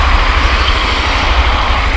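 A motorcycle ridden at night through the streets of Pelotas, Rio Grande do Sul, gives a steady, close roar of engine and rushing wind that holds an even level from start to finish with no voices.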